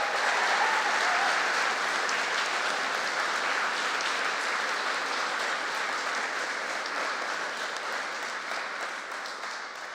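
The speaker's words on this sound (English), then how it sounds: "a deserving round of applause" An audience at a college graduation ceremony gives a long round of steady, dense applause that stays loud and only slowly fades.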